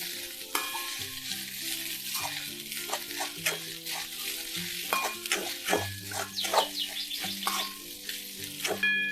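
Kande pohe with salt is stirred in a frying pan, giving a steady sizzle with repeated scraping strokes, close and continuous over soft background music.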